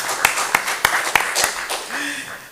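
Meeting attendees at a township committee meeting clap for National Police Week, a few sharp, separate claps ringing out in the room over about a second and a half, then fading into quiet room tone.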